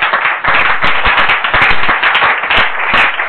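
A church congregation claps hard and cheers in a sustained burst, with loud, dense rhythmic claps throughout and no speech.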